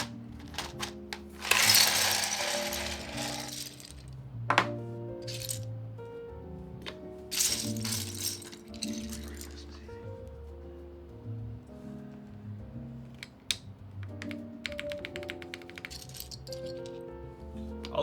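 Plastic keycaps from a mechanical keyboard clatter and rattle as they are handled, in scattered bursts of clicks and jingling over a quiet background of music-like tones.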